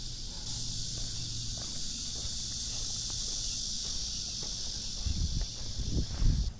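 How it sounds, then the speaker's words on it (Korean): Steady, high-pitched droning of evening cicadas fills the air continuously on a summer heatwave walk in Dangjin, South Korea, with a few soft footsteps and rustles near the end. "정말 쓰르라미 매미소리가 소설 문구처럼 이렇게 들리네요."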